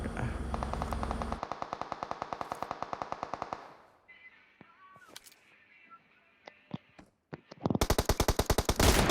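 Rapid automatic gunfire in the PUBG video game played on an iPhone 11: a long, fast burst of close shots, a quieter stretch with scattered single shots, then another dense burst near the end.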